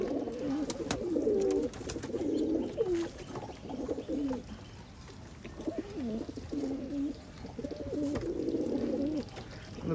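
Pigeons coo in repeated low throaty rolls, close and steady, with faint background noise and a few soft clicks.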